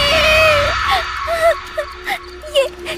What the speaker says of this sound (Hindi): उसे देखकर जोर से चिल्लाई